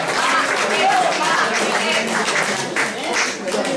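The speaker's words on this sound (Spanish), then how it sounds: "vamos a darle otro aplauso a Gemma" An audience at a poetry evening applauds in a dense, steady wash of clapping that lasts the whole stretch and fades a little near the end.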